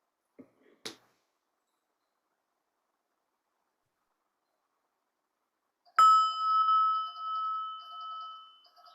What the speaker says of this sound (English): probably you heard the bell